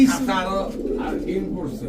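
Pigeons coo at a crowded pigeon market in Bangladesh, their soft repeated calls running steadily beneath someone talking close by.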